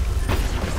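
A single short heavy boom as a player's car lands on another car in the racing game One Rush, loud and close, lasting under a second.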